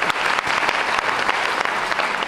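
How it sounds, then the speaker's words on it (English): Full, even applause from a school convocation audience, a thick wash of many hands clapping close and steady for a couple of seconds with no talking. "And you can hold your applause so I get everyone"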